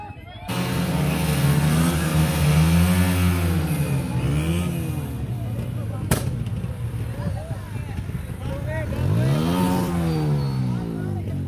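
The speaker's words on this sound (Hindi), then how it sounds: "बाइक के ऊपर फटाके वगैरह मार रहे हैं।" Motorcycles rev hard at a school bonfire party, engines swelling and falling in long sweeps while one sharp bang, likely a backfire or firecracker, cracks out midway over constant rumbling noise.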